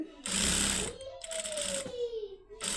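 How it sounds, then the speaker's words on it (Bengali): A sewing machine runs in two short bursts while stitching along the edge of a piece of fabric, close and fairly loud, with a brief pause between runs and a voice faintly behind. "এই কানি বরাবর একটা সেলাই দিয়ে নিই"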